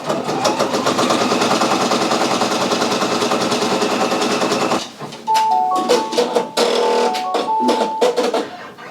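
A Brother Persona embroidery machine stitching a design onto a hoodie sleeve in a 9x3 inch hoop runs with a fast, steady needle clatter, then breaks off midway into a few short tonal beeps and intermittent clicks.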